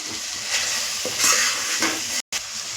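Masala of coriander powder, garam masala, onion-garlic masala and homemade red chilli powder roasts in a pan for veg shev bhaji, giving a steady sizzle with stirring scrapes. The sound cuts out briefly near the end.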